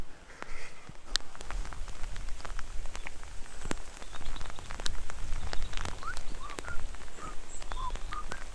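Rain falls steadily on vegetation in a chalk nature reserve, a dense patter of drops with sharp close ticks scattered throughout and faint bird calls in the distance.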